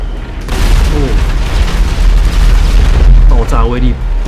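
Explosions in Grand Theft Auto V aimed at a floating warship, heard as a loud, sustained booming roar that fills the whole clip, with a voice speaking briefly over it.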